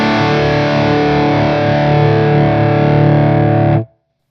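Electric guitar with lower-output pickups through a Victory MK overdrive amp with gain set low, playing a thick distorted chord that rings loud and steady for almost four seconds before being cut off abruptly.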